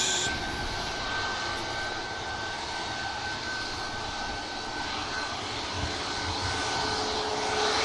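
A Ryanair jet at an airport gives off a loud, steady engine roar with a high whine, close by and continuous throughout, with no voices over it.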